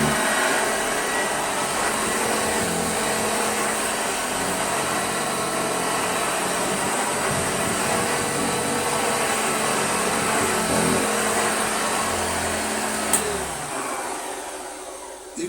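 A 1969 Hoover Junior 1346 Mk2 upright vacuum cleaner, restored with new brush roll bearings, runs continuously over a rug with a steady motor whine and a rough brush hum, close and loud.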